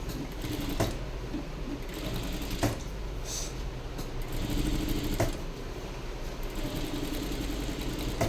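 A sewing machine runs steadily at a medium, even pace while stitching a high neck blouse, with a few sharp clicks now and then over its constant whirring hum.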